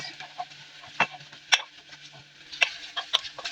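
A spoon stirs and scrapes through a thick cheese and onion sandwich filling in a bowl, irregular soft scrapes and clicks with several sharper taps, close and fairly quiet.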